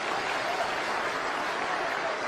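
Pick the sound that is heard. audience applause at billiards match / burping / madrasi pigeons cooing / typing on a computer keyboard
audience applause at billiards match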